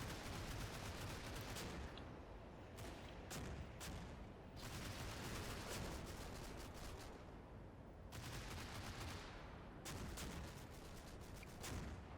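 Dense, continuous gunfire and distant booms from a battle in the video game Combat Mission: Fortress Italy, with repeated .30 cal machine-gun bursts from Stuart tanks rattling over a constant roar of combat noise and mortar fire.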